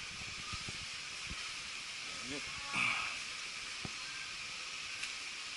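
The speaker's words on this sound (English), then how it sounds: "let's get some onions in there" Onions for arroz caldo sizzle in a pan as a faint, steady hiss, with a short brighter flare near the middle and a few soft knocks.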